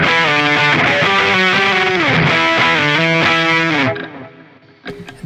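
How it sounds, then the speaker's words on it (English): An electric guitar played through the Distortion Plus effect of a Zoom G5 multi-effects processor rings out loud and close in gritty, saturated chords and riffs for about four seconds before fading away. "And next up is a distortion plus."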